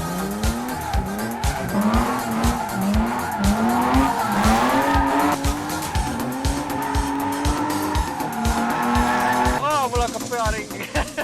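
BMW drifting, engine revving in repeated rising pulls while the tires squeal and skid continuously, loud and close, with voices underneath.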